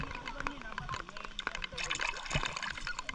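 River water flows and splashes while food is washed by hand at an outdoor riverbank, a busy close run of trickles and pours with small clatters throughout.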